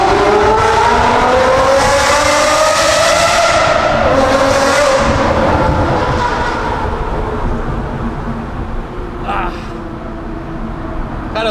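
An Aston Martin V12 with a manual gearbox roars through a tunnel, loud and close, its pitch rising and falling with the revs amid heavy echo before easing slightly toward the end.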